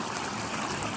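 Steady running water of a stream beside a trail camp spot on the Pacific Crest Trail, a constant broadband rush that stays fairly faint and even throughout, with no voices.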